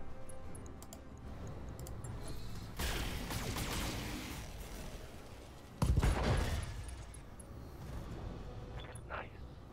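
Mech weapons firing in a Roguetech battle game, two loud bursts of rapid gunfire and explosions with softer ticking and clicks between, fairly loud and alone.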